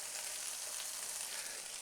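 Green onions and chilies fry in sesame oil in a pan, giving a steady, dense sizzle that carries on without a break for the whole short stretch, with no talking over it.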